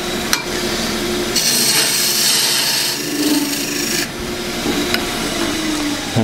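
A wood lathe spins a wooden scoop being turned dry with no finish, giving a steady whirring rasp with scraping tool contact that swells and eases in several passes, close by and with no talk.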